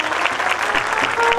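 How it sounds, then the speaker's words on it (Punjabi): Crowd at a pir's fair (mela) clapping, a short burst of dense, steady applause from many people close by. "ਹੁਣ ਮੇਰੇ ਪੀਰ ਦੇ ਨਾਂ ਤੇ ਇੱਕ ਵਾਰੀ ਤਾੜੀ ਵਜਾ ਦਿਓ ਜਰਾ ਜ਼ੋਰਦਾਰ"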